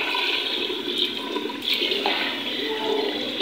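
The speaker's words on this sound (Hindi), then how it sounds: "यहाँ पे मैं इसमें पानी शामिल करने लगी हूँ जिनका बनेगा शोरबा।" A steady rush of water streams continuously, splashing and gurgling into a cooking pot nearby, with no talking.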